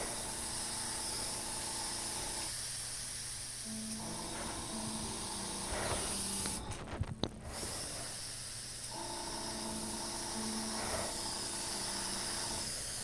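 An airbrush sprays paint in a long, steady, close hiss onto a loose fantasy painting, with a brief sharper burst of air near the middle and no speech.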